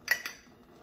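A tablespoon of coconut flour is scooped and tipped into a bowl: two quick metallic clinks against the bowl, close and light, followed by faint rustling and quiet.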